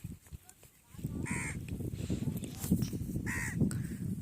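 A crow caws twice, harsh and fairly close, over a steady background of outdoor noise and rustling on a sandy Padma river char near the Bangladesh–India border.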